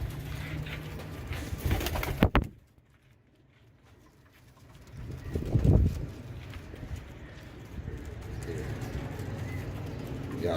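Pigeons kept at a pigeon fancier's home coo softly and intermittently, with a louder burst of fluttering or movement at the start and again around the middle, close and moderately quiet.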